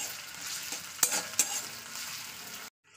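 Onion frying until reddened in a small amount of oil for a dry chicken kosa: a steady close sizzle with a couple of sharp stirring scrapes, cutting off abruptly near the end.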